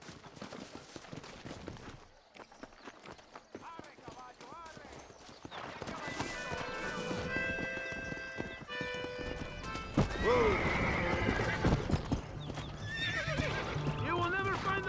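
Horses gallop with quick clip-clop hoofbeats and let out whinnies in a Western-style game, mixed with music and ambient game sound, growing louder and busier through the scene.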